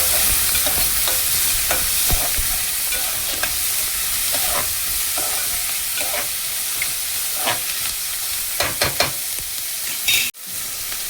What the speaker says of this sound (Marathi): आता आपण यामध्ये टाकूया हा कांदा आणि ह्याला आता तांबूस रंगावर परतून घेऊया।